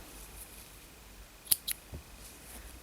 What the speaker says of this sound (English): then we're going to cut our yarn off